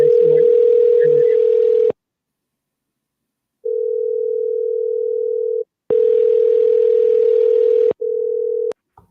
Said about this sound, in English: you guys hear that phone ringing now?